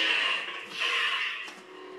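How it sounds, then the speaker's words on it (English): Ultra Sabers Manticore lightsaber with a violet amethyst blade, its electronic hum swelling into swings and bright crackling clashes, a sharp burst near the end, close and steady with no talking. "There's the swinging, then the clashing sound"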